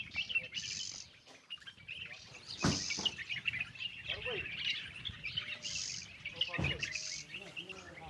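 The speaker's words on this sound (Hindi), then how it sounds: "इन दरख्तों में परिंदों की आवाज़ें सुनें" Birds chirp and call from the trees at a high mountain spot in Sindh's Kohistan, bright tweets recurring through the clip against a faint insect-like background, with a few brief knocks and rustles close by.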